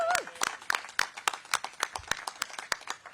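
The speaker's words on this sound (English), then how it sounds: "So let's give a round of applause for that." An audience at a city business awards event claps, a short burst of distinct, fairly close individual claps that thin out toward the end.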